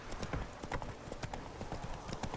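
Roach, the horse in The Witcher 3, gallops with rapid, rhythmic hoof clip-clops close by, each beat sharp and even, running steadily for a couple of seconds.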